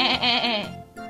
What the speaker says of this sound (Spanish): ¿Escuchaste eso? Es una oveja.